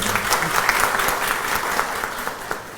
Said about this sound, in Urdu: تو یہ سب تالیاں آپ کی بتا رہی ہیں کہ آپ اس کو پروگرام کو انجوائے کر رہے ہیں